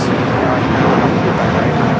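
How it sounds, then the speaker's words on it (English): Loud, close engine roar from a Korean Air Boeing 747-8 taking off at LAX, a dense broadband rush filling the brief moment, with a voice faintly present alongside. "That is Korean Air Flight 18 taking off to Seoul on the"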